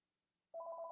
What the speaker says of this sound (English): Sorry about the phone call. I try to do these when the phone's not ringing